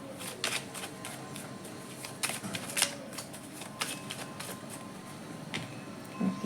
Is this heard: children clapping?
no